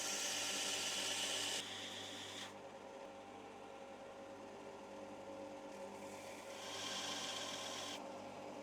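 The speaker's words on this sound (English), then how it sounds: "I'm just going to grind these bevels in with the sander." A sander grinding bevels into a fishtail chisel being made from an old steel file gives a steady, continuous abrasive hiss and rasp, close and fairly quiet, shifting in intensity as the pressure changes, with no voices.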